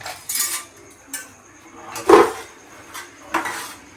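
Peanuts and white sesame seeds dry-roasting in a pan over low heat, with a few scattered scrapes and clinks of a utensil stirring against the metal.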